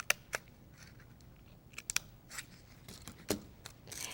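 Scissors snip through paper strips on a paper craft lizard: several quick, crisp cuts close up, spaced irregularly over a quiet background.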